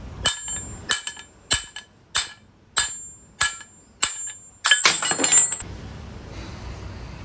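Sharp metallic hammer strikes driving out a suspension socket on a Honda Civic, about eight evenly spaced ringing blows followed by a rougher scraping clatter as the part gives way, close and loud with no talking.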